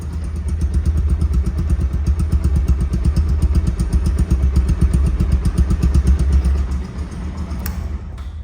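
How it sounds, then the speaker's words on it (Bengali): A 2023 Bajaj Pulsar DD ABS motorcycle with about 2,500 km on it runs smoothly at a steady idle, its close, even engine putter holding constant for most of the stretch before easing slightly near the end. "রানিং অবস্থায় আছে দেখেন সাউন্ডটা কি মিষ্টি সাউন্ড বা স্মুথ সাউন্ড"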